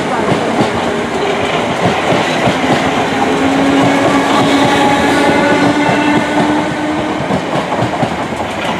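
A Class 455 electric train departs Clapham Junction, a steady loud rumble with rhythmic wheel clatter and a rising motor tone running throughout, no voices over it.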